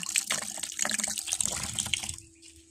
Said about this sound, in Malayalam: മാങ്ങ കഴുകുക കേട്ടോ.